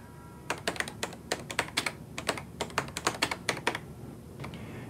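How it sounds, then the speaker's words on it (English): Keys clattering on a 1987 Panasonic word processor keyboard, a quick run of close, crisp keystrokes in uneven bursts of taps and brief pauses, with no talking. "Use the same keystrokes to turn underlining off."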